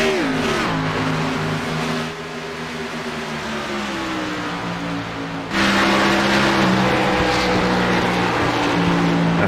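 A NASCAR Xfinity V8 engine roars in the iRacing video game, holding a loud droning tone that drops, then surges into a harder, higher rev as it accelerates.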